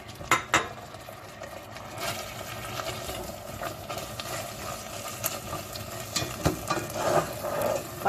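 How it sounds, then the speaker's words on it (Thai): Beef being stir-fried with soybean paste in a wok, sizzling under repeated metallic clanks and scrapes of a spatula against the pan, close and busy throughout. "ผัดเต้าเจี้ยวค่ะเพื่อนๆใส่เนื้อลงไปป้า"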